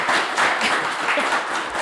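A conference audience applauding a panel on ethical leadership, dense steady clapping from many hands filling the room for the whole short stretch.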